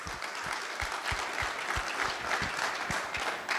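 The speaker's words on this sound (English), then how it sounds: "give yourself a massive round of applause for being here today" An audience claps at a launch event in Dubai, steady dense applause lasting several seconds with crisp individual claps close by.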